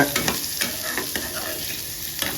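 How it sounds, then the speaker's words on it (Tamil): Green chillies sautéing in a pan for bread upma: a bright, close sizzle with quick stirring clicks and scrapes every half second or so. "சேர்த்து நல்லா வதக்கி எடுத்துக்கலாங்க"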